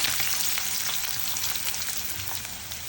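Mustard seeds, cumin and onions fry in hot oil in a pan, giving a close, dense and constant sizzling hiss with a faint spattering texture and no voices.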